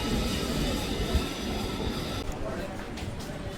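The Parasuram Express passenger train rumbles steadily close by as it arrives at Aluva railway station, with a constant roar of wheels and carriages, and a faint screech of metal near the end.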